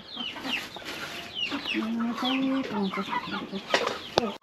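A large rooster at a chicken shop in Nimtar clucks and calls repeatedly, close and fairly loud, among other fowl with faint background chatter.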